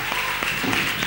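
Congregation at a French-speaking church service applauding and cheering for Jesus, a steady close wash of clapping and crowd noise with no break throughout.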